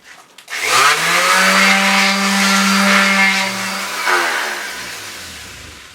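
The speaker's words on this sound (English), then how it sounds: "the most useful tool of all will be my little belt sander here, this little mobile tool" Small mobile belt sander working on a solid oak trunk owl carving: the motor spins up quickly, holds a loud steady whine for several seconds, then winds down.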